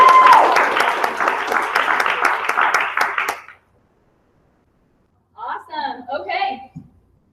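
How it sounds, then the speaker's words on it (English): Audience applause at a training event fills the first three and a half seconds with dense, steady clapping, then drops to silence before a short burst of voices near the end. "let's give her another round of applause for her."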